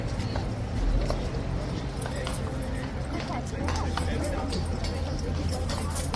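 An agitated horse's hooves clip-clop steadily on a hard surface amid a busy crowd, with a continuous babble of people in the background and no clear pauses.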